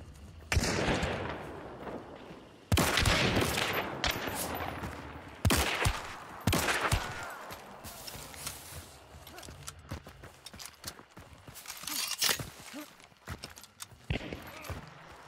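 Gunfire in Hunt: Showdown rings out as scattered sharp shots at a middling distance, a few loud cracks between quieter pops and rustling movement.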